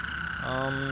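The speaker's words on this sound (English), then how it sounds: "You can hear all these light calls around me. Those are all little cricket frogs." A cricket frog gives a short croaking call close by, over a constant background of other calling cricket frogs.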